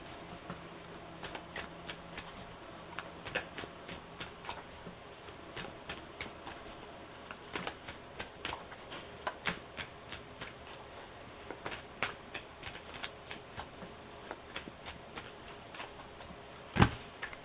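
Tarot cards riffle and slap together in a steady run of crisp shuffles, close and fairly quiet, with a sharper snap near the end; no one speaks.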